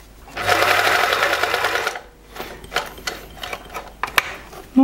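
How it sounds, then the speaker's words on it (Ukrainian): A Privileg 865 manual sewing machine sewing a straight stitch, a loud close rapid whirring chatter for under two seconds, then it stops and scattered mechanical clicks and handling noises follow. "можу я пряму строчку зробити, знявши регулятор на ноль"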